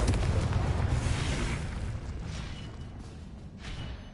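A blasting spell explosion in a wizard video game, a deep rumbling burst that is strongest at the start and then rolls on as a steady low roar, fairly quiet overall.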